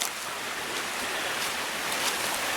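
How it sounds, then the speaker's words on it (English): A creek flows in the woods, a steady broadband rush of water, even and fairly close, with no voices. "Okay, the creek's over here."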